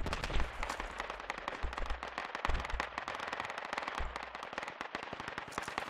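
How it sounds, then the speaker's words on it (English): Gunfire in the Project Reality military shooter during a night co-op battle: dense bursts of automatic rifle and machine-gun fire crackle near and far, rapid sharp cracks in continuous volleys with heavier booming shots scattered through. "Shit, we're getting shot at."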